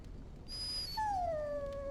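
A dog in the video game Dragon Age Origins whimpers: a thin high whine followed by a longer, falling, plaintive tone, close and fairly quiet over faint background noise.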